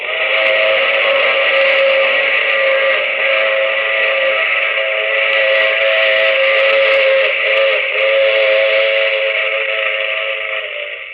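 A train whistle sounds in one long, loud, sustained blast lasting many seconds, steady and close, with no voices over it.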